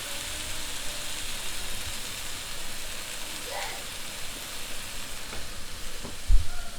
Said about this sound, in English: Now that I hear the sizzling going down a little bit.